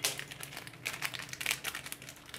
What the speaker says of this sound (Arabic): فانا هفضي عندي 5 اكياس من البسكوت اللي فيه 3 قطع